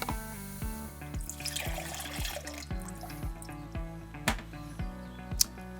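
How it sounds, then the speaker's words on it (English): A Mistercool water mister runs into a bucket, with water trickling and splashing steadily alongside rhythmic repeating clicks and occasional sharper drips. "We're going to put the entire mister into a bucket, run it for a minute"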